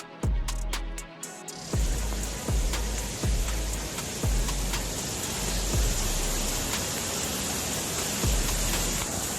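Heavy rain pours in a dense, steady hiss after a brief start, with periodic low thumps recurring through the downpour, loud and continuous.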